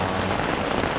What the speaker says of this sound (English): So I'm in my tent, avoiding the rain, and trying to stay dry.